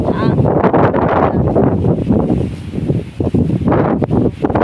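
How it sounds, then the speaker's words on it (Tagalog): Strong wind buffets a mountaintop, roaring and gusting steadily across the microphone with rustling, while a person speaks over the noise. "Kanina umaambon-ambon, malakas yung hangin, kaya nawala yung ambon."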